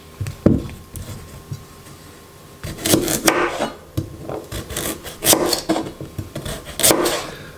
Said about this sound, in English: Just slice it up roughly. Cut off the ends.